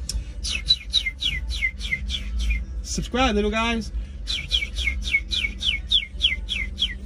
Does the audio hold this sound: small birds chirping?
yes